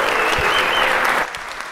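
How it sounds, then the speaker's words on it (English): Brief burst of conference audience applause in a hall, loud massed clapping with a held tone over it, dropping off sharply near the end. "Big round of applause,"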